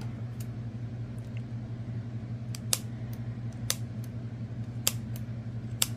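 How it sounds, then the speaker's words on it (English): Scissors snip through crochet yarn in a few sharp, separate clicks over a quiet, steady background hum. "These scissors, it's not the scissors, they do cut."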